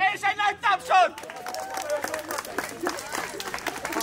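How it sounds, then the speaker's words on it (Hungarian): Wedding guests at a celebration in Hajdúdorog break into applause after a counted cheer, with clapping and crowd chatter following voices that ring out loudly at the start. "És egy nagy tapsot!"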